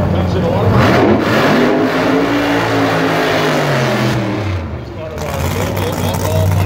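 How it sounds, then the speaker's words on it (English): Drag racing car engine revving at Pomona, California, a loud rough buzzing note that climbs and falls through several revs before dipping briefly and returning to a steady drone, with an announcer talking over it. "that lawnmower slash chainsaw sounds pretty nice"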